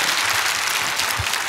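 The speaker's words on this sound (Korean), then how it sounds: "박수하겠습니다." Congregation applauding at an outdoor Christmas worship service in Gwanghwamun, Seoul, a dense, steady burst of many hands clapping close and loud, with no voices over it.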